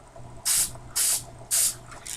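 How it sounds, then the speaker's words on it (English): Spray paint from an aerosol can sprayed onto a paper plate in three short, even hissing bursts with a fainter fourth at the end, close and crisp against a quiet room. "you're going to want to take your spray paint"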